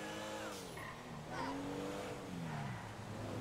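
An Enus Super Diamond luxury car, modeled on a Rolls-Royce Phantom, drives in GTA 5 Online with an engine note that rises and falls as it accelerates, and brief tire squeals come through on the turns.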